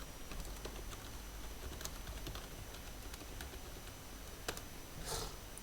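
Quick, light clicks of fingers typing on a computer keyboard to enter a Google search; the soft, uneven taps are faint and sit over a steady background hiss.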